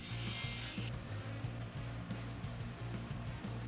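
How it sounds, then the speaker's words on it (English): Handsaw cutting through a wooden stop block for a sliding dovetail jig, steady back-and-forth strokes in an even rhythm, close and fairly loud, with no talking. "we'll cut 2 sections off of our stop block side at 7/8 inches each"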